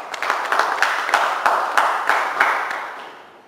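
Applause at an Indonesian regional council (DPRD) meeting, a short burst of dense clapping from a roomful of people that holds steady for about three seconds before tapering off.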